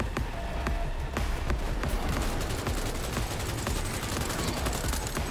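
Assault rifle fire in Cyberpunk 2077 Phantom Liberty, a dense continuous rattle of rapid shots over a loud, busy combat soundscape with no pauses.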